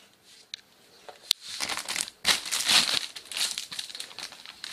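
A plastic mushroom mycelium bag with a filter crinkling and rustling up close, irregular crackly bursts with a couple of sharp snaps, no talking.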